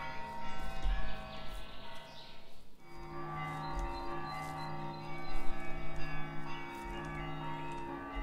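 Church bells in the video game Gray Dawn ring out calling the player toward the church, sustained tolling tones that hum and overlap at moderate loudness with a faint whooshing sweep early on.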